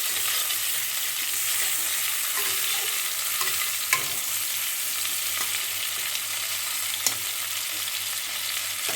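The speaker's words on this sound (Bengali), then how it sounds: "চিংড়ি মাছটা ভাজা হোক" Prawns frying in hot oil in a pan for a kochur loti dish, a steady close sizzle running throughout with occasional clicks and scrapes of stirring.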